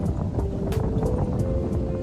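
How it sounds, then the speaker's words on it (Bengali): Wind blowing across a cloudy, chilly hilltop in Sikkim, a steady broadband rush with gusty buffeting on the microphone, continuous and close throughout. "তারপর ঘুরিয়ে দেখাও কেমন কেমন হাওয়া দিচ্ছে"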